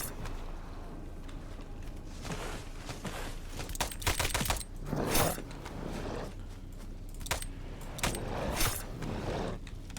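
Gunfire from a newly added weapon in the Blood Reaver video game, with repeated bursts and volleys of shots over a steady busy background, a few louder salvos standing out near the player.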